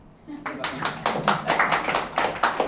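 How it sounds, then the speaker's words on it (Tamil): An audience claps along at a Tamil religious talk, a burst of scattered hand claps that swells and continues steadily and fairly close, with some voices mixed in. "ஏதாவது ஒரு கைதட்டு தட்டுவீங்களா"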